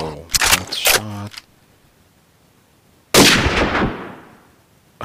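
Gunshots in the hunting game Dino Hunter King: a short burst of sharp reports up front, then quiet, then a single loud blast with a long decaying tail.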